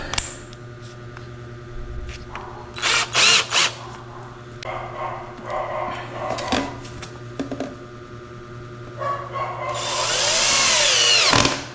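A power drill drives a screw into wood, with short whirring bursts and then a sustained rising whine near the end as the screw seats, close by and without voices.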